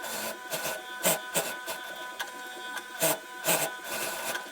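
A sewing machine stitches a pocket facing onto trouser pocketing, a close continuous mechanical whir with rhythmic clattering peaks.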